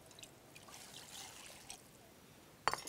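A soft, steady trickle of a bowl of water pouring into a pot for Vietnamese spicy beef noodle soup, ending with a brief sharp clink.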